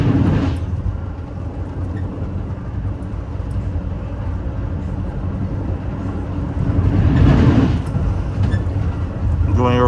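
Metra commuter train 1277, an express from Chicago Union Station to LaGrange, Illinois, rattling roughly over bridges: a loud, steady rolling rumble from on board, swelling into a heavier burst near the end.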